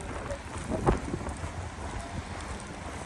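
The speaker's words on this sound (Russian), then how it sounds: "О, здесь очень сильный ветер и прямо в лицо." Strong wind gusting during a heavy snowstorm on a city boulevard in Ufa, a steady broadband rush buffeting the microphone for the full length, with one brief louder gust near the start.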